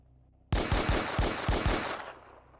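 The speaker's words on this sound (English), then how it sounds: "Why the hell would you shoot that gun?" A gun fires in a rapid burst of about seven loud, sharp shots, close and alone, followed by a fading echo.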